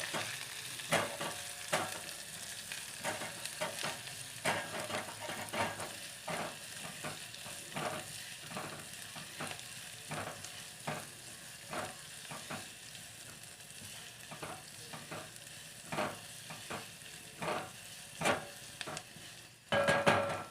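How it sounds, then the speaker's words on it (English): Dry potato curry frying in oil in a pan, stirred with repeated scraping strokes over a steady sizzle, close and moderately loud with no talking. "Give it a nice stir."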